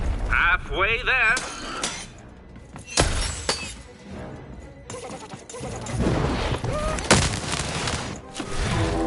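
Cannon blasts in a video game: several loud, sharp booms with crashing, shattering debris scattered through the stretch, over dense game music and effects with a voice talking in the middle.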